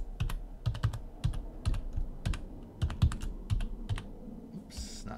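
Password being typed on a computer keyboard while a Bitcoin wallet is opened: quick, close, crisp key clicks in short irregular bursts with brief pauses, ending in a firmer flurry of presses.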